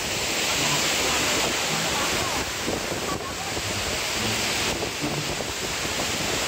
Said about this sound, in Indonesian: jadi curugnya sudah ketemu, cuman airnya gede, jadi hempasan anginnya tuh bepeledagan euy